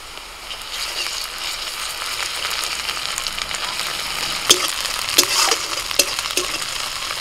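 Ginger garlic paste sizzling with half-fried onions in mustard oil in a wok, a constant crackling fry with a few sharp spatula clinks and scrapes against the pan.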